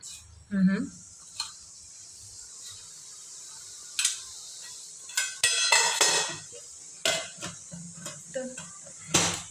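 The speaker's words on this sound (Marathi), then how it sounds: "सर्वात आधी तर मी जिरे टाकणार आहे ओके तेल आपण ऑलरेडी टाकलं आहे" Cumin seeds hit hot oil in a pan for an okra stir-fry, giving a steady soft sizzle broken by clinks of a spoon against the pan while someone talks throughout.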